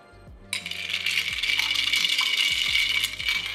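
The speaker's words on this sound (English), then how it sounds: "And then you hold your glass like this in front of the camera and pour your coffee." Coffee poured into a glass, likely over ice, makes a steady bright splashing gush with rattling clinks, starting after a brief pause and continuing close up and alone for about three seconds.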